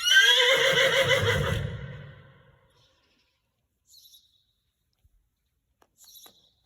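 A horse whinnies loudly and at length, the call fading out after about two seconds, followed by quiet with a few faint high chirps.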